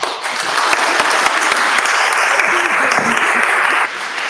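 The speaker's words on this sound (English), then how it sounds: "one more real big round of applause for Ilan Pappe" A lecture audience in Detroit applauds Ilan Pappe after his talk on Gaza, giving loud, dense clapping that holds steady throughout, with voices murmuring underneath before it drops off abruptly near the end.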